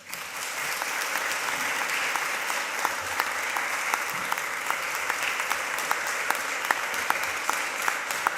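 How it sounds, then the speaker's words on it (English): A ceremony audience claps politely and steadily, a dense even patter of many hands filling the room at a moderate level with no voices on top. "that's very polite clapping"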